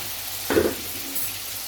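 Onion and small spoonful of garlic hitting a hot pan for chicken piccata, a brief burst of sizzling near the middle that settles into a low, steady frying hiss.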